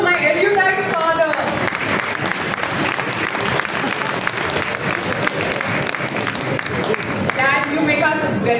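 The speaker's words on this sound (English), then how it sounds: "A round of applause for my erudite father." An audience at a book milestone event applauds, dense sustained clapping from many hands filling the room, with voices talking over it near the start and end.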